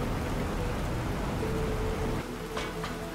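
Steady, heavy rain falls on an alien planet in the survival game The Planet Crafter, a dense, constant hiss with faint tones and small clicks near the end.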